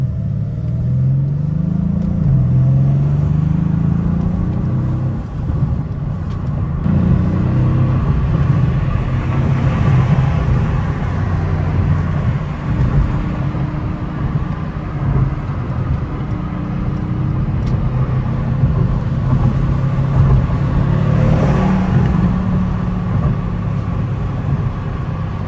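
A pre-facelift Mercedes C63 AMG engine burbles low and steady while driving, a continuous deep throb with slight rises and dips, close and loud, no talking.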